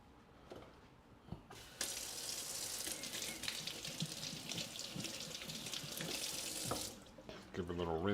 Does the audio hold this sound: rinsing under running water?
yes